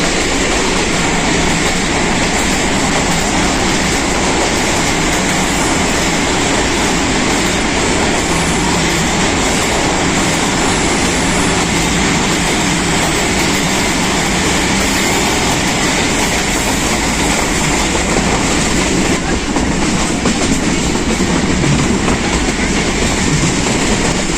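A Pakistan Railways passenger train runs through a small tunnel, a loud, dense, unbroken roar of wheels and rattling carriages heard from on board.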